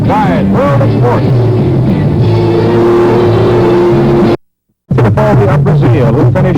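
IROC race cars break from the pole at the start, a loud close roar of engines revving and climbing in pitch, cutting out briefly to silence before resuming.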